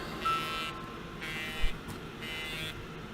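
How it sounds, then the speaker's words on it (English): An alarm beeps in repeating bursts, with three broad buzzing pulses alternating with short gaps, at moderate loudness over faint room noise. No one is talking. "my alarm's going off here"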